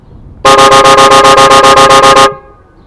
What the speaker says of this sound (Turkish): Şimdi kornaya basıyorum.